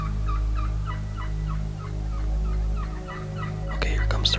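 Wild turkeys gobble in the woods, a series of rapid, rattling gobbles repeating every half second or so over a low steady drone, with a louder burst near the end; no talking.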